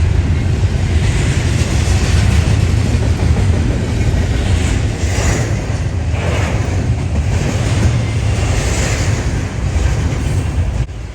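A long modern freight train rolls through downtown Easley, South Carolina, a sustained heavy rumble of passing cars with surging, washing noise. It stays loud and steady for the duration, then eases off slightly at the end.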